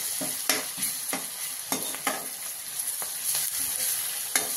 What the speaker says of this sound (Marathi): आता हे आपण मिरची, कोथिंबीर आणि लसूणची पेस्ट केलेली आहे, ही आपण थोडी ह्याच्यात टाकणार आहोत